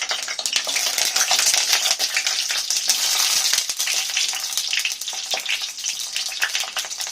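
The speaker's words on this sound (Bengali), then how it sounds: "তেলটা গরম হয়ে গেছে, এবার আমি বেগুনগুলো এক এক করে ভালো করে ভেজে নেব।" Eggplant pieces fry in hot mustard oil, producing a loud, continuous close sizzle with bursts of crackling and occasional clinks of a utensil against the pan.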